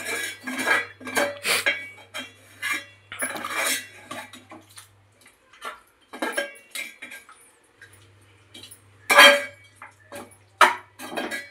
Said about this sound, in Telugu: మసాలాన్ని, ఉప్పు కారాన్ని పట్టడానికి ముక్కకి వేసుకొని శుభ్రంగా కలుపుకుందామండి